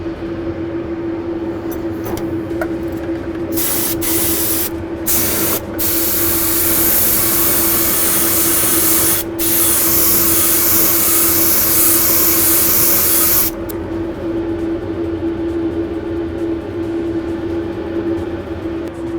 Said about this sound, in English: we take a sample of paint to spray a panel and check the color.